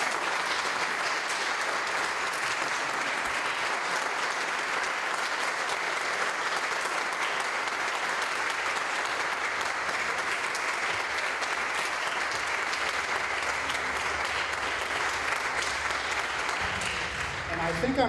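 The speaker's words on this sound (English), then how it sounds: "I'd like to hear a round of applause for these three." Sustained audience applause at a peace and justice forum honoring Lois Gibbs, a steady, dense wash of many clapping hands that holds evenly from start to finish without letting up.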